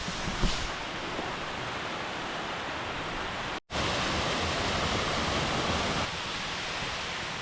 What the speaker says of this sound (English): Passing the waterfall now